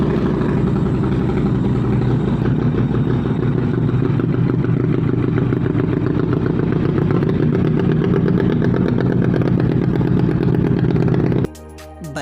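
A Hyosung GT250R motorcycle fitted with an SC-Project exhaust idles loudly and steadily up close with a throbbing rumble for most of the time, then cuts off abruptly near the end.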